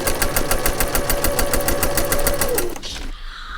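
Home sewing machine stitching denim for couture jeans, a fast steady rapid-fire needle rhythm running close and loud for most of the stretch, then stopping abruptly near the end.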